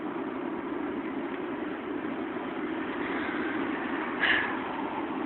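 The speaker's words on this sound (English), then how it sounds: "Excuse the noise. I'm, outside near a road and there's a lot of things going on." A steady, dense wash of outdoor traffic noise, with a constant low rumble of passing vehicles and a brief brighter swell near the end.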